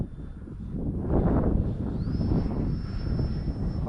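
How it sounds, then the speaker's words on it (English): An FMS Rafale 80mm electric ducted-fan RC jet flies past with a loud, rising whoosh that holds into a steady high-pitched whine, with some wind noise. "you want to talk about one sweet flying jet"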